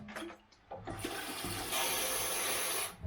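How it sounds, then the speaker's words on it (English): Hot water poured from a freshly boiled kettle, with a few soft clinks followed by a steady, rushing splash that builds and then stops near the end. "Pour the hot water."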